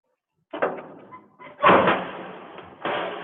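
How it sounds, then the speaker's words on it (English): Large doors on an MCOS Mini filtration unit swing open, giving a few thumping, rattling metallic bursts of handling noise, with a louder knock midway and another at the end. "I can open the huge doors."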